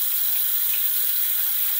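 Warm water runs steadily from a tap close by, a constant bright hiss and splash without pauses.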